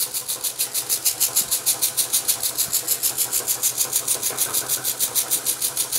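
A small beginner live steam engine runs on boiler steam, giving a steady rapid chuffing exhaust beat with a mechanical clatter, close and fairly loud throughout with no talking.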